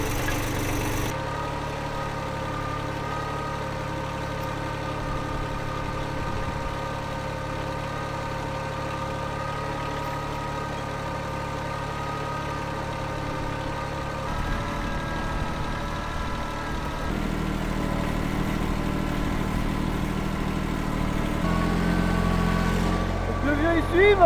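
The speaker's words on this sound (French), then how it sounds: "aujourd'hui je vais conduire un tracteur énorme" A huge tractor engine idles close by with a steady harmonic drone and mechanical rattle, deepening and growing louder in the last third, as someone talks over it.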